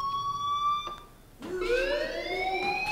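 A school fire alarm in Life is Strange wails with a rising and falling electronic tone, cutting off briefly and then sweeping back up again, loud and steady against a quiet background.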